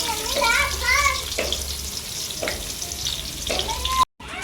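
Onions fry with dry masala in a home kitchen pan, sizzling continuously beside stirring scrapes and a few water splashes, while a voice talks over the cooking.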